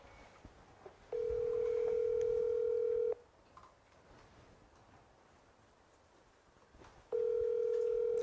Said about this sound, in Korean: 마지막으로 이수근 씨에게 전화해보고 5번 올렸는데 안 받으면 바로 끊고